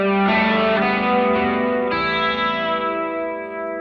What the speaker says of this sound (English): I might go somewhere in between chorus and vibrato for this sound